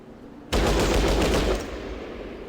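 Sustained burst of gunfire from a powerful gun in the video game Fallout Tactics, erupting abruptly after a near-silent moment, loud and dense for about a second, then tailing into a rumbling echo.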